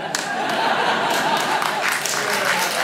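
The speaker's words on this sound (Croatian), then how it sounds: "Dajte aplauz da vas čujem" A stand-up comedy audience claps, a dense spatter of applause mixed with scattered laughter and chuckles, fairly close and sustained across the moment.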